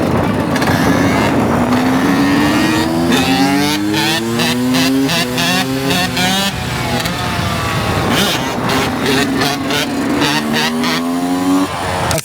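A motorcycle engine is held in a wheelie, loud and close, its revs climbing in repeated rising sweeps that ease off and build again, with no talk.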